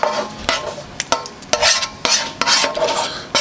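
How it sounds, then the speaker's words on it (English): Taco meat piled into queso dip, a run of short wet scraping and plopping strokes from a spoon or spatula, close and fairly loud, repeated in an uneven rhythm of about seven scoops. "So you simply just pile in your taco meat like so."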